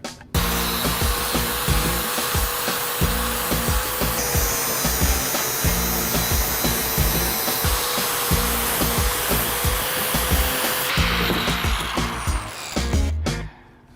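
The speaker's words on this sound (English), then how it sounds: "we're gonna fire up the generator and Finnegan's gonna hit it with the flap disc" A flap disc grinds a metal flex plate while a generator runs, giving a loud continuous abrasive whine and roar that holds steady for most of the clip before cutting off near the end.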